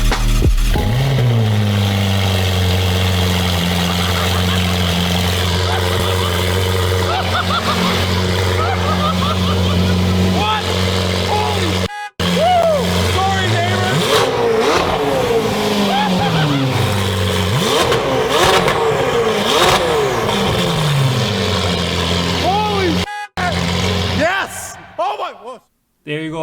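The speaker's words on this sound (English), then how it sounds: "here's a quick clip of the 488 with the new FI exhaust system on" A loud Ferrari 488 engine with an aftermarket FI exhaust revs and roars repeatedly, with sharp pitch sweeps up and down and brief cutoffs between bursts, close by.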